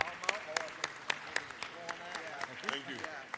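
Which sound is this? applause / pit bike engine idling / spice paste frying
applause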